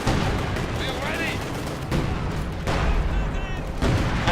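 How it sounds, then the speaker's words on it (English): Gunfire crackles through a Company of Heroes 2 battle, sharp bursts and booms layered over a dense wartime soundscape, with voices under the shots. "sniper fired off another observation round"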